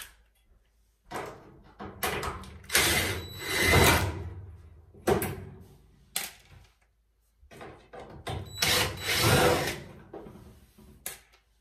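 A power drill backs screws out of a loud, noisy Samsung dryer during repair, several bursts of whirring motor separated by short pauses and light clicks, close and without talk.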